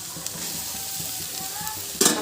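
Chopped tomatoes sautéing with onions in a pan for egg kulambu, a soft continuous sizzle with light stirring taps, ending in a brief louder scrape.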